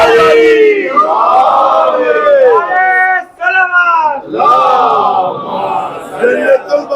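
A large crowd at a religious Arbaeen gathering in Karbala, Iraq, chants a devotional slogan in unison, loud, close voices rising and falling in long sustained calls with brief pauses between phrases.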